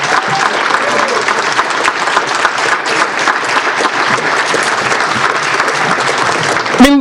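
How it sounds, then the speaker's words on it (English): A room full of people claps in sustained, dense applause for a 99-year-old being celebrated, loud and continuous throughout before cutting off abruptly. "Let's give a big round of applause"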